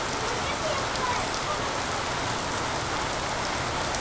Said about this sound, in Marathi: आता बघा कसला पाऊस पडतो आणि वातावरण तर एकदम पावसाळा झालं बघा.